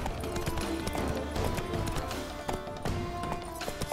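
A horse gallops under its rider in The Witcher 3, with steady rhythmic hoofbeats and clopping over a constant bed of game ambience and music.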